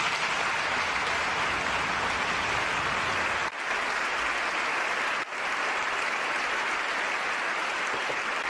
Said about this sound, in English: Lawmakers gave the pontiff a rousing round of applause at the end of his first papal address to the Spanish legislature today